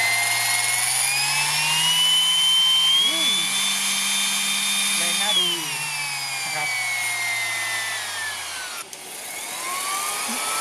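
A Deko round sanding machine runs without load, giving a steady loud whine that climbs and drops slightly as its speed settings change, close up and without talking.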